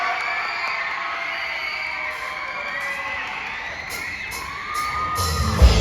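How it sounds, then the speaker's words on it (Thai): A school crowd cheers, screams and claps for a high-school string band at an arts and crafts fair, a loud dense roar of shrieks and whoops sustained throughout with a few sharp bangs near the end. "ขอเสียงปรบมือกรี๊ดดังๆกับห้องสอนศึกษาเรียนต้อนรับครับ"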